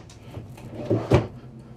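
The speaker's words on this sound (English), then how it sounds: "All of the drawers in this unit have the soft close feature." Soft-close bathroom drawer in a 2023 Newmar Super Star 4059 motorhome, a muted sliding rumble followed by two soft thuds as the drawer glides shut.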